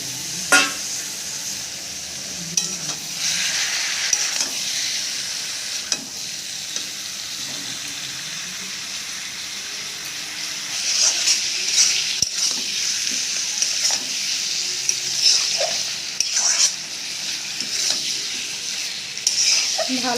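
Ghugni sautéing with goat fat and spices in a pan, a steady sizzle with a scraping stir every few seconds and occasional clanks of the spoon, going on at length and fairly close.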